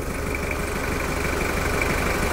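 A 2001 Toyota Hilux SR5 with a 2.8 engine idles steadily while warming up, a continuous close, even diesel rumble with a faint rhythmic knock and no talking.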